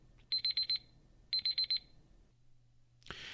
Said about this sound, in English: And you heard the beeping, so you know what that means.